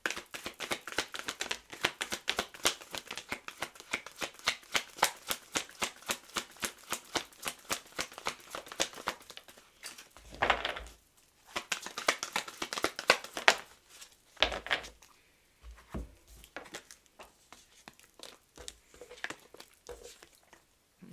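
Oracle cards are shuffled close by in a quick, even run of soft riffling taps for about ten seconds, followed by slower, scattered card flicks and shuffles separated by brief pauses, with no voices.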